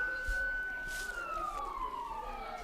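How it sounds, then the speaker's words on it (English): A fire truck siren sweeps down in pitch during a holiday parade, heard faintly and at a distance over a background of crowd and street noise. "You can kind of hear that through my headset now, I think, of the sirens and the horns"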